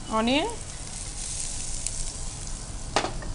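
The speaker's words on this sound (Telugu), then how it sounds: "తర్వాత జింజర్. ఫ్రై చేసుకున్నాం." Onion, ginger and garlic sizzle steadily while frying in a pan, a continuous close hiss with a brief stir near the end; a short voiced sound rises at the start.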